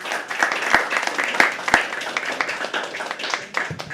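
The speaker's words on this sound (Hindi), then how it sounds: "जोरदार ताली प्लीज रजत के लिए" An audience at a poetry open mic breaks into applause, a dense spread of clapping with a few sharp, loud claps standing out.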